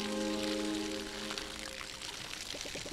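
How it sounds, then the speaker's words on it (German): A watering can pours water onto plants in the video game Palia, a loud continuous splashing pour that fades slightly over a few seconds, with short melodic game tones near the end. "Ja, ich muss gießen."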